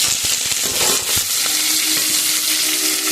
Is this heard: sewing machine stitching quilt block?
no